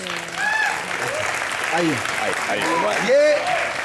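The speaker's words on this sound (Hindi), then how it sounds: "जैस्मिन के लिए जोरदार तालियां हो जाए।" A studio audience at a live Hindi comedy show applauds a guest, a broad wash of clapping running underneath a host's speech and other voices, steady throughout.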